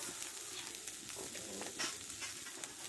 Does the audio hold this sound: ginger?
yes